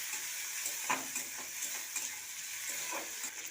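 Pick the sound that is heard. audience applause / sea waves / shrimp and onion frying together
shrimp and onion frying together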